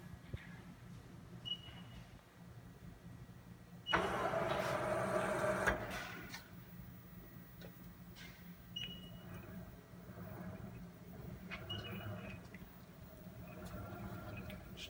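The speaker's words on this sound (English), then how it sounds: "just cutting a little pocket here" A Lagun FTV-2S two-axis CNC vertical milling machine cuts a small pocket, giving a low steady mechanical rumble with a louder, brighter cutting burst of about two seconds partway through, under a voice.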